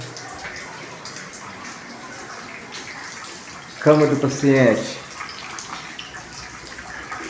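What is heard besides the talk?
rainwater leaking from a hospital room ceiling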